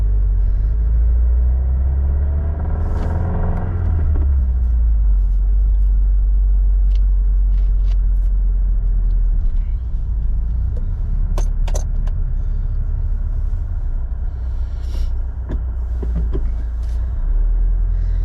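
A warmed-up, custom-tuned 2022 Subaru WRX with an ETS intake and Perrin race mount idles, heard from inside the car. A loud, deep engine rumble runs throughout, with occasional small rattles and clicks in the cabin, and no one speaks.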